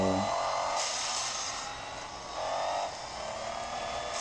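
Racing cars in a video game roar steadily throughout, a continuous engine drone that swells and dips slightly as the cars speed along, with no talking over it.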